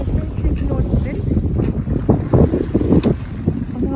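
Strong wind of around 50 knots roaring over a sailboat sailing a beam reach off Croatia as a thunderstorm approaches, a loud constant buffeting rush against the microphone with surging gusts and splashing water.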